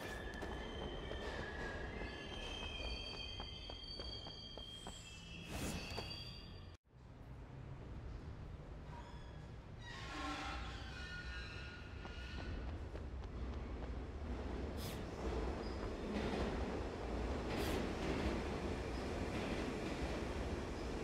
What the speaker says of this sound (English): The metro begins to move